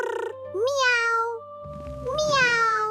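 An animated cartoon cat gives two drawn-out, high meows, each rising and then falling, with a short low rumble between them and no talking.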